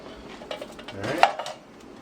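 A spoon scrapes and clinks against a pot while beef stew ingredients, beef broth and stewed tomatoes, are stirred together, a few soft knocks and swishes over about two seconds, quiet and close.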